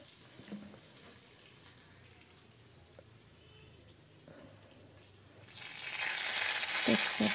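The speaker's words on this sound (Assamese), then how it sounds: "এতিয়া মই তেল দিছোঁ।" Oil heats in a pan for cauliflower gravy, a faint crackle at first that swells into a loud, steady sizzle over the last couple of seconds, with a few light clinks near the end.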